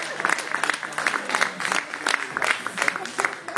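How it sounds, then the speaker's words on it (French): Audience applause at the opening ceremony of an African literature festival, a steady patter of clapping hands from a modest crowd, fairly close and sustained for a few seconds. "Vous croyez que vous allez applaudir?"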